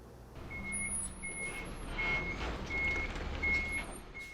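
Supply truck reversing on a cold morning, a steady series of about five evenly spaced loud electronic reversing beeps over a low engine idle.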